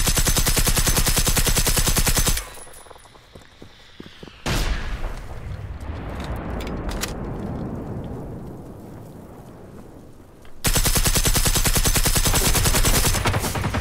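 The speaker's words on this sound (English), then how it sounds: "He decided to start shooting me with his gun out of nowhere." Enemy gunfire in the video game Generation Zero, with rapid automatic bursts blasting loud and close at the start and end, separated by a rumbling, rain-like stretch of quieter noise.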